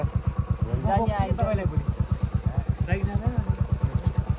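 A motorcycle engine climbs a steep uphill road to Devisthan in Myagdi, its steady, rapid pulsing loud and close throughout, with a voice speaking briefly over it.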